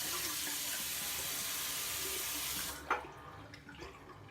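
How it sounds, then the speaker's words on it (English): Tap water runs steadily into a sink while a face is wetted for a second shaving pass, then cuts off, leaving a few faint splashes and drips near the close. "Just going to wet the face again."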